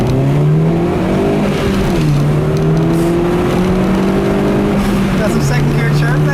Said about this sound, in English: I'll leave you guys with a nice little acceleration here in sport mode.